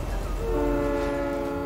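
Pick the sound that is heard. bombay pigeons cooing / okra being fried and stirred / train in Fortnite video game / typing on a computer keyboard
train in Fortnite video game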